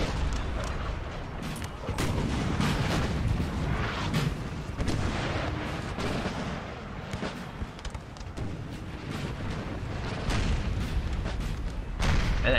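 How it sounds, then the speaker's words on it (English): In a Napoleonic Total War 3 battle, artillery pounds positions in a steady, dense barrage of booms and sharp cracks that overlap into a continuous roar and stays loud throughout. "they have artillery just softening up the positions of Prussia"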